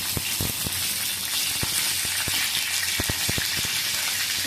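Stuffed brinjal with green chillies frying in a pan, a steady loud sizzle throughout with scattered sharp pops and crackles, no voices.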